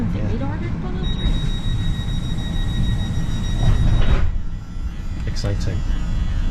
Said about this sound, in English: Look at the speed of this train.